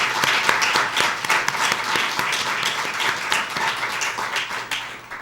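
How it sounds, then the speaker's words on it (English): An audience at a university keynote event applauds, with a burst of dense clapping that slowly thins out and fades over several seconds. "let's give a warm round of applause to all of them"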